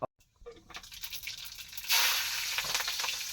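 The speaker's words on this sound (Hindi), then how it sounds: "ये लग गया छौंका" Spices tempering in hot oil for a fasting-day offering, cooked by a holy man in a forest camp at Chitrakoot; a sudden loud, steady hiss bursts in partway through and carries on, after quieter clattering.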